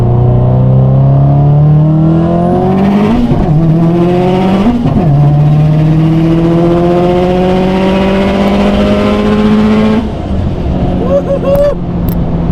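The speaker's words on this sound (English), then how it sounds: "it's ripping through the gears fast" A stock-motor car winds up hard from inside the cabin, engine pitch climbing in rising sweeps with sharp breaks at each quick gear shift, loud and close, before easing off near the end as voices come in.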